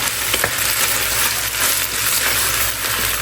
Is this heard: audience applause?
no